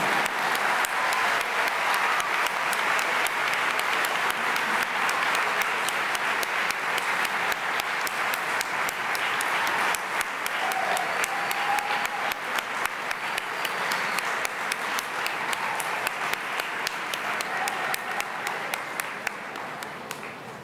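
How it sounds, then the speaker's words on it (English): Long, sustained applause from a large lecture audience, continuous and even, with a few sharper claps standing out as it slowly tapers near the end. "Thank you for that applause."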